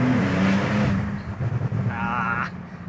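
A BRABUS Porsche 992 Turbo S Cabrio engine drones steadily while driving, a low hum that wavers and pulses, with a brief higher whine near the end; someone talks over it at times.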